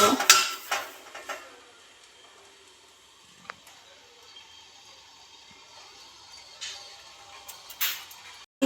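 Soaked sago being mixed by hand or spoon on an oiled metal plate for homemade sabudana papad: a few scraping clinks at the start and again near the end, with long quiet stretches between.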